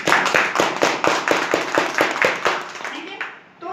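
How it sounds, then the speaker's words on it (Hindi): Audience applause from a crowd at a business seminar, a dense run of rapid hand claps filling most of the stretch before trailing off, loud and close with a murmur of voices beneath. "जोरदार ताली"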